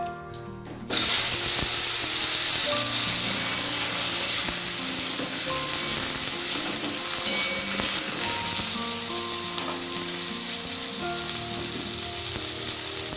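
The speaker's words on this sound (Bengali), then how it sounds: "এই যে বেগুনটা কেটে রেখেছিলাম এটা এবার তেলের উপর দিয়ে দেবো" Chopped eggplant hitting hot oil in a pan with five-spice seeds, bursting into a loud, steady sizzle that continues with occasional stirring scrapes, alone without talk.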